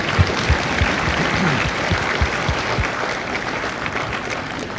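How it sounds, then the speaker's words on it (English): Applause rolls through the audience at a Marine Corps recruit graduation ceremony in San Diego, moderately loud and continuous, with a few low thumps and faint crowd noise mixed in. "Give yourselves a round of applause"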